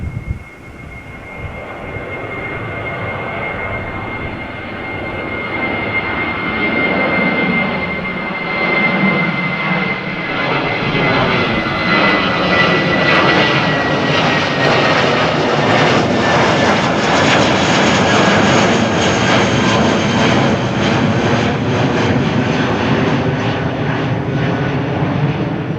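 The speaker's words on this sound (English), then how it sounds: "already airborne, an A320 from British Airways going to London Heathrow" A British Airways Airbus A320 climbing out from Amsterdam Schiphol Airport: a loud, sustained jet engine roar that swells over the first seconds, with a steady whine riding on top, then holds as a broad rumble, heard without any talk.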